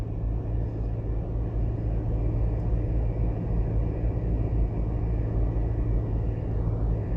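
Heavy traffic on the Portmore Expressway in Jamaica, a steady deep rumble of road noise and engines that stays constant and loud throughout, heard from inside a moving vehicle.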